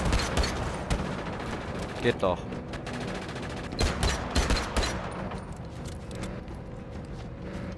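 Rapid gunfire in the video game Just Cause 3, bursts of automatic shots and heavier booms that come and go over roughly five seconds, then fade. Someone speaks over the shooting.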